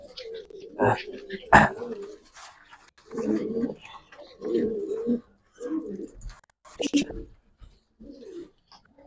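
Giribaz high flyer pigeons coo in short repeated bursts separated by brief pauses, with a dog barking and people talking nearby.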